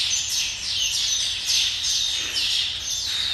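A flock of Taveta golden weavers calls nonstop at a zoo, a dense, loud chorus of bright overlapping chirps and chattering tweets that rises and falls in waves throughout.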